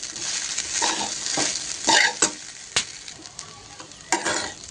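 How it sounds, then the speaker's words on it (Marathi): Khichdi sautéed in ghee in a pan, stirred with a spoon that gives a few sharp scrapes and knocks over a bright sizzle, close up. "छान खिचडी परतून घेऊ."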